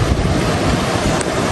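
Strong wind buffets the microphone over a constant roar of rough surf on the Marau Peninsula, Brazil, loud and unbroken throughout.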